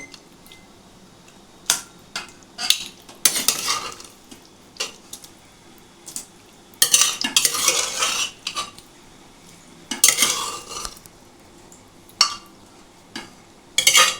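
Fried eggplant pieces lifted onto a plate with utensils, giving intermittent close clinks, scrapes and clatters of metal on cookware between quiet pauses.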